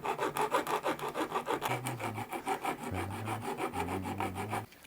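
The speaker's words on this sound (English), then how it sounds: "we can hit this with a sanding block" Steady back-and-forth rasping of a sanding block with used 180-grit paper on rosewood for a Telecaster guitar build, rhythmic strokes repeating quickly and close up, with no talking.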